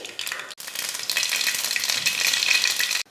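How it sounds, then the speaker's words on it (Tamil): Mustard seeds and urad dal sizzle and crackle steadily in hot oil, a continuous close frying hiss with a brief break, as tempering is prepared for chutney. "எண்ணெய் காஞ்சதுமே கொஞ்சம் கடுகு உளுந்து"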